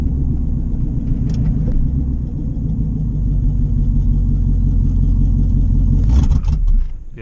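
Carbureted C4 Corvette with a swapped TH350 automatic launching hard from a stop, a loud, steady deep engine roar that holds throughout, with a brief burst of higher noise near the end.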